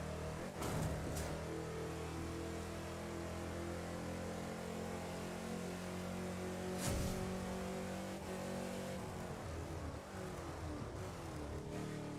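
Car engine roaring steadily while driving in Test Drive Unlimited 2 on a Hawaii road, with sustained revving, shifting pitch, a sharp burst near the middle and no talking.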